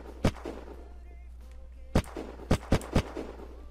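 Gunfire in the survival game Unturned: five sharp single shots at irregular spacing, loud and close over a low steady hum, with faint voices murmuring between them.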